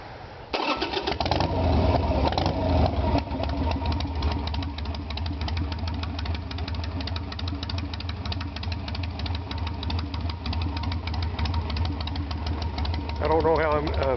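A 1996 Harley-Davidson Sportster 883 motorcycle engine cranks and catches, then settles into a loud, steady, lumpy idle close by, with a brief higher-pitched whine near the end.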